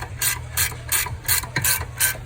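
A hand ratchet loosens a bolt on the suspension of a 2019 Dodge Charger Scat Pack, heard as six or seven evenly spaced bursts of rapid clicking, loud and close, with no talking.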